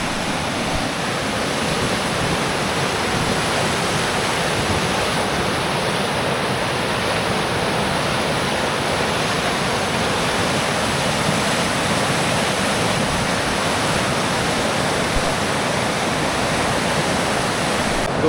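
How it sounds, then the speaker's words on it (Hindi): The fast-flowing Bhagirathi river rushes in a constant, loud roar of churning water that continues steadily without any talk. "आपको आवाज़ भी आ रही होगी, जो रिवर की बजिंग साउंड है"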